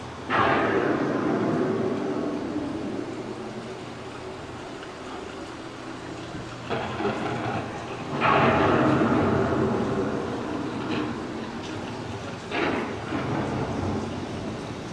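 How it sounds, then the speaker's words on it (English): Simulated thunderstorm effect on Epcot's Living with the Land boat ride: a steady rain-like wash rolls underneath, and several rumbling thunder swells build and fade over the span. "The approaching storm may seem violent and destructive to us"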